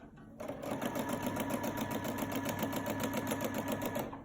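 A sewing machine runs at a fast, even clatter while free-motion stitching a stem on fabric, starting abruptly after a brief pause and continuing steadily, close and clear with no talk.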